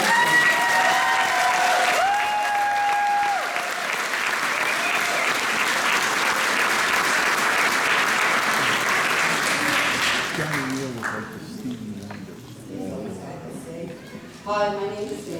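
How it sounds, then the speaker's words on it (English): A roving crowd at an induction ceremony breaks into sustained applause, steady and fairly loud for about ten seconds before tapering off, with a voice speaking near the start and talk resuming as the clapping fades. "Let's hear a round of applause for Johnny so he knows how much we love him"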